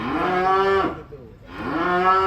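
A large Sambo cow being unloaded from a truck moos twice, each call long, loud and close, with a short quiet gap between them.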